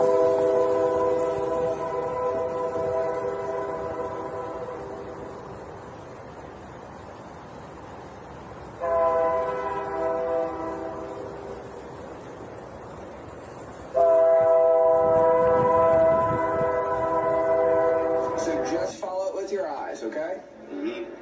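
Train horn blowing in long, loud sustained blasts as a train passes near a roadside sobriety test, with rumble underneath and people talking over it.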